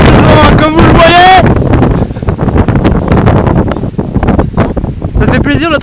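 Strong wind buffeting a microphone outdoors, a loud, rough low roar that runs throughout while someone talks in French at the start and end.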